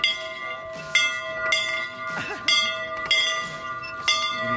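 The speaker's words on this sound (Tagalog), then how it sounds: "nagre-ring pa yung bell oh" A wake-up bell at a family camp in Alberta rings in regular, evenly spaced clangs about every second and a half, each ringing on with bright sustained tones; faint voices murmur in between.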